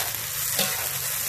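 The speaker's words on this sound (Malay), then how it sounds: "kita tumis-tumisnya semua dalam kuali lebih senang" Steady sizzling and crackling of spices, including cinnamon, sautéing in a wok for curry noodles, close and continuous, with a faint stir or scrape partway through.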